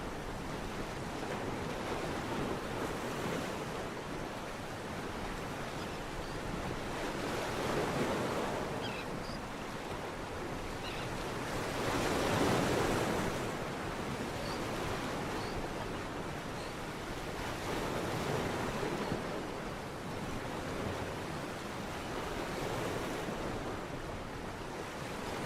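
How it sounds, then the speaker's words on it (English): Ocean waves from a played recording wash in a steady hiss, swelling softly every few seconds, with a faint wind-like roar throughout and no voices. "He's using a wave track, I think, to make it seem like you can hear the waves."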